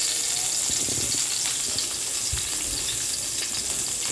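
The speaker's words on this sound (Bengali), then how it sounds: "নুন আর হলুদ দিয়ে ফুলকপিগুলো ভেজে নিচ্ছি" Cauliflower florets deep-frying in hot oil with salt and turmeric, a steady close sizzle and bubbling crackle running evenly throughout with no voices.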